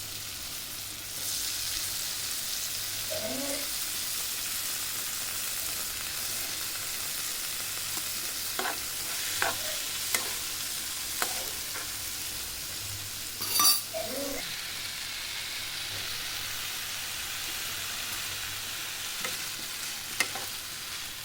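Small cut potato pieces fry in a pan with a steady, soft sizzle, broken by a few scattered scrapes and clinks of stirring.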